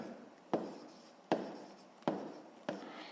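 A pen writes on paper at close range: four short bursts of scratchy strokes, each starting with a sharp tap and fading before the next, with no talk over them.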